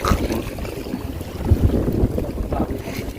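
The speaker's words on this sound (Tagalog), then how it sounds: "lumakas lalo ang hangin" Strong wind roars steadily across the microphone at sea with a low rumble of water beneath, loud and continuous, with no voices.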